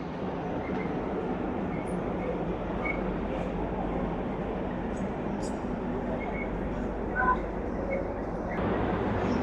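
Passenger train at a Vietnamese station on the Ho Chi Minh to Da Nang line, a steady low rumble and hiss with faint metallic clinks and distant platform murmur, moderately quiet throughout.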